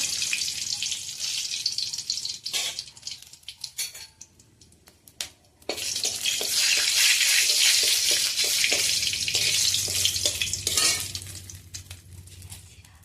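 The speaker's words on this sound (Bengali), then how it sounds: "রসুন সম্বাদ দেবো, শুকনো লঙ্কা রসুন সম্বাদ দিলে মুসুরি ডালে টেস্ট হয়" A tempering of garlic and dried red chili for masoor lentil dal: scattered clinks and scraping of a pan, then a loud, steady sizzle of hot oil that continues for several seconds with stirring clatter.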